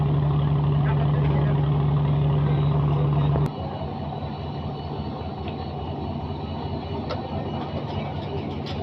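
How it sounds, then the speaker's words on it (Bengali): The Mohanganj Express pulls out of Gauripur railway station, a steady low diesel drone with a tonal hum that abruptly drops and shifts partway through, then continues as a rumbling engine under faint background station noise. "মোহনগঞ্জ এক্সপ্রেস ট্রেনটি ছেড়ে দিয়েছে মোহনগঞ্জের উদ্দেশ্যে।"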